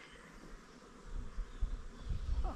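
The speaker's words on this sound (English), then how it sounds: "It sounds like bees." Bees buzz steadily at low pitch, growing louder and busier partway through, with no talking.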